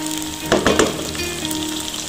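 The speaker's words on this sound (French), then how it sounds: "Donc là, je remue." Onions and bell pepper frying in a pan, stirred with a few scraping strokes over a steady close sizzle, with no talking.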